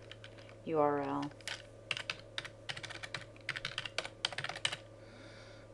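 Fingers type on a computer keyboard in quick, uneven bursts of close clicks after a short spoken word, with pauses between key runs in a quiet room.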